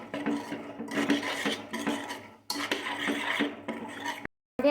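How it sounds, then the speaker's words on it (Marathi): Pavta beans being stirred with masala in a pressure cooker, a series of loud scraping, rasping strokes of a spoon against the metal pot, in bursts with short pauses between. "मिक्स करून घ्यायचं एकदा चांगलं।"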